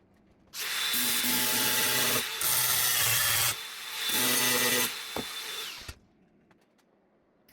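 Metal body panel on an Austin A30 under restoration being cut with a power tool, a loud continuous grinding whine in several sustained bursts with brief pauses, then a faint clatter as it stops.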